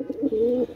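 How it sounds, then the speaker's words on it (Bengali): A pair of Rampuri pigeons gives a single close, clear coo, a short rolling throaty call lasting under a second, with no voices. "এগুলো দেখেন একজোড়া রামপুরি কবুতর মাশাআল্লাহ"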